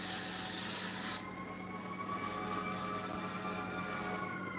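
A can of cooking spray hisses in one steady burst lasting about a second, followed by a low background hum; close and fairly loud, with no talking.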